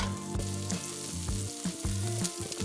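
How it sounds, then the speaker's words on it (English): Greek chicken meatballs fry in a hot pan with a steady sizzle, punctuated by a few sharp clunks and scrapes as they are moved and flipped, with a faint hum running underneath. "I'll fry these other ones"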